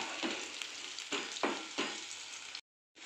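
Onions fry in a pan with a bright, steady sizzle broken by several scraping stir strokes, close and moderately loud, cutting out briefly near the end before the sizzle resumes.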